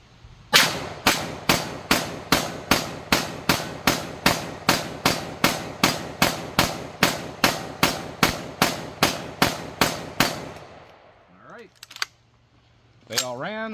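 AAC 7.62x39 rifle ammunition fired in a rapid, evenly spaced string of roughly thirty loud, close shots, followed by a few seconds of quiet with faint handling noise.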